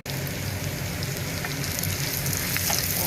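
Crushed garlic, chillies and chopped curry leaves fry in butter in a pan, giving a steady, close, even sizzle throughout.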